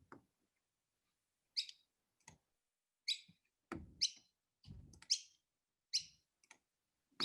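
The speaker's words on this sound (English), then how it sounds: "we've got our spring theme happening with the birds in the background" Birds chirping outdoors on a spring day: short, sharp high calls scattered every second or so, faint and distant, with occasional low thumps between them and long quiet gaps.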